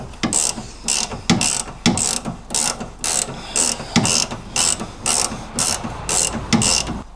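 A hand ratchet loosens a bolt on MGB suspension with steady, evenly spaced bursts of clicking pawl noise, close and clear, repeating about a dozen times without talk.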